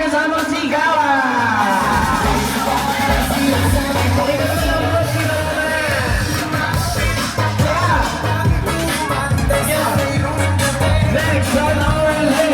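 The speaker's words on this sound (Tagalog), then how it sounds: "Mr. Roman, palakpakan, may kasamang sigawan." A family at a reunion whoops and cheers for a relative being welcomed, a loud, continuous crowd of overlapping voices and shouts with music underneath.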